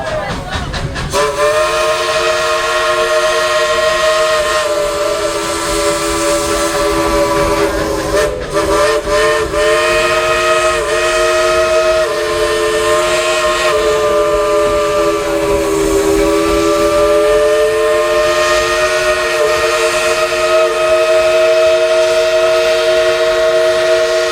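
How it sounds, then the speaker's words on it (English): A loud, sustained steam locomotive whistle from the Dollywood Express in the Smoky Mountains blows for a long stretch, its tones holding steady with slight wavering, close and dominant throughout. "tell engineer Julie to blow that whistle of hers real loud and long"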